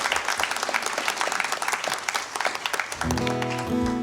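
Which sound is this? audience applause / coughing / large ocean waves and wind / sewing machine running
audience applause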